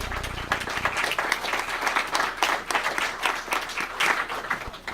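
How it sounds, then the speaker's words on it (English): Steady applause from an audience, dense clapping that carries on for several seconds without a break. "Give me a round of applause."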